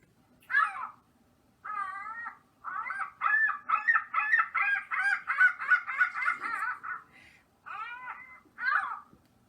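A gull calls repeatedly, a series of sharp, nagging cries that speed into a rapid run before slowing to a few final calls, fairly close against quiet.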